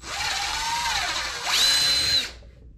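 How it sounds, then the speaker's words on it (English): A power drill whirs steadily while drilling out through a hole in a homemade flounder gig, then its pitch climbs sharply as it speeds up and runs at a higher whine before stopping abruptly. "take your drill, drill out through the hole"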